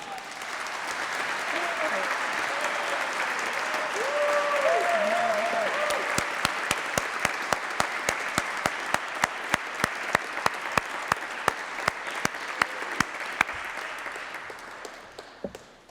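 An audience at a lunchtime address breaks into applause that swells and continues steadily, with sharp individual claps standing out toward the end before it fades.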